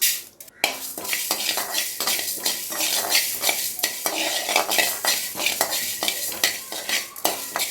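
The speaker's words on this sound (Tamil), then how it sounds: "வாசனை வர வரைய வறுத்துக்கோங்க." Fenugreek seeds dry roasting in a hot kadai with no oil, a steady rattling scrape of a spoon stirring them alongside faint sizzling and metallic clinks, close and continuous without any voices.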